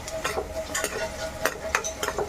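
Onions stirred in a pan for a Mangalorean-style fish curry, a spoon scraping in repeated strokes roughly every half second over a steady close sizzle.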